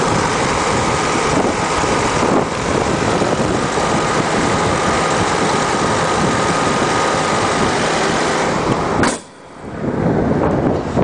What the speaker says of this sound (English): Got the Cadillac V8 in it.